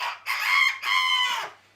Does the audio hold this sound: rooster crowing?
yes